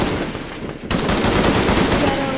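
Rapid automatic gunfire erupts in the video game Shadow of the Tomb Raider, a loud, dense burst of shots that kicks in partway through after a quieter stretch and keeps rattling continuously to the end.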